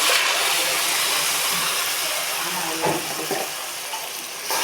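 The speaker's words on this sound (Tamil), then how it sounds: "அதுலேயே அரைச்சி வச்ச தக்காளியை நான் ஊற்றிடுறேன்." A pan sizzles loudly and steadily as ground tomato is poured in, a brief splash of liquid hitting it, with a few soft clatters near the end.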